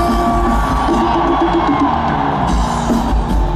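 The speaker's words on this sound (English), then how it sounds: "On the count of three, I want to hear you guys scream really loud, okay?" A huge concert crowd at Lollapalooza Argentina screams and cheers in a dense, sustained roar, loud and unbroken throughout.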